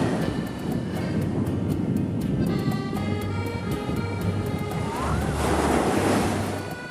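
Sea waves breaking and washing onto a crowded beach at Lido di Ostia near Rome on a cool November day, a steady loud surf roar with wind noise throughout, swelling near the end.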